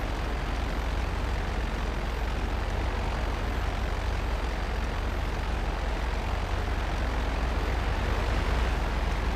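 A plane's engine drones steadily in flight during GTA Online, a loud, constant broadband roar with a low rumble that holds unbroken throughout, with no talk over it.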